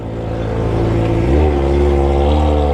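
Kawasaki ZX25R motorcycle with an aftermarket exhaust revving near a railway track in a narrow alley, a close, loud engine note that climbs sharply midway and holds a rough, buzzing drone.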